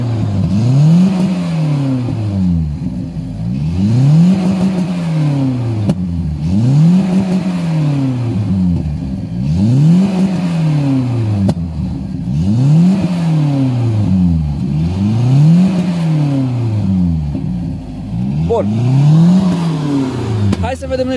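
A Dacia 1310 engine is revved over and over in steady rising-and-falling sweeps, loud and close, about eight blips with popping and banging on the overrun; a voice is heard briefly.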